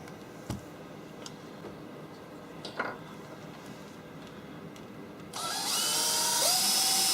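A few sharp ticks and taps sound in a quiet room, then a power drill suddenly whirs up loud into wood and keeps spinning with a high whine.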